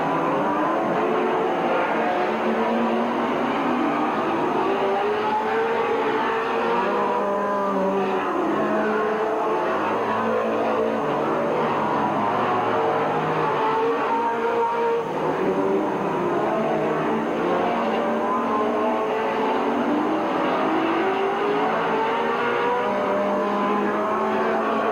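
Race cars roar steadily around the Midvale Speedway oval at a 1985 fall classic, engines droning loud and continuous with rising and falling pitch as they pass, no voices heard.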